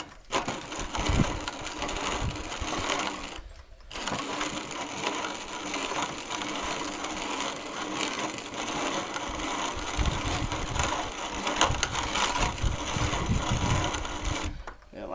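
A Wonder Junior hand grain mill grinds corn mixed with pebbles, giving a steady loud crunching, rattling grind that runs almost continuously with two brief pauses, and faint talk mixed in.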